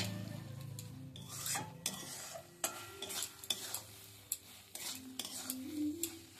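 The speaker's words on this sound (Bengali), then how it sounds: "এভাবে পুরটা একটু শুকিয়ে নিচ্ছি।" A filling is stirred and dried in a pan on a gas stove, heard as a quiet sizzle under repeated scraping and tapping of a utensil against the pan in uneven strokes.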